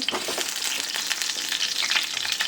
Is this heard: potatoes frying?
yes